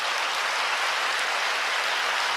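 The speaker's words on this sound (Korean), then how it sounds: "1대 예수 믿으신 분 박수 쳐드리세요" A church congregation at a prayer meeting applauds first-generation believers, a thick, unbroken wash of clapping, close and steady with no gaps.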